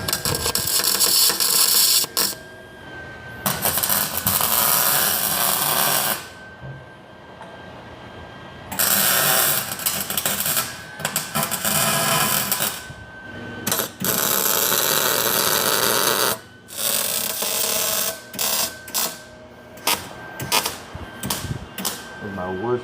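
Welding on cast iron in a car-build garage, with a steady crackling buzz in long bursts broken by short pauses, loud and close, while people talk at times.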